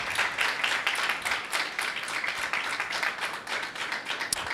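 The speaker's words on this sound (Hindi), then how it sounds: "सो यीशु के लिए ज़ोरदार तालियां एक बार फिर से बजाएं" A church congregation at a Sunday meeting claps in applause for Jesus, a dense, steady wash of many hands filling the whole stretch, fairly loud and even with no talking over it.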